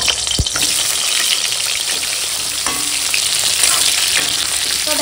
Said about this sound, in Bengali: এখন পটলটা ভেজে নেবো।